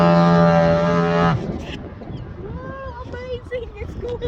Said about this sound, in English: Oh, there's a foghorn.